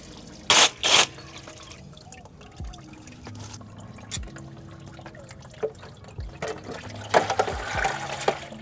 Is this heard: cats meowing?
no